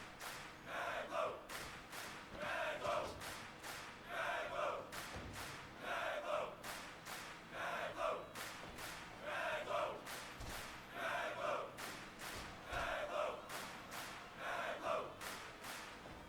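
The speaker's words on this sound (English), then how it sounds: "Let's play some crowd chants to see where all this fits together." Crowd chants from the Fire Pro Wrestling video game, rhythmic bursts of massed voices repeating at regular intervals with thumping beats, faint and distant-sounding.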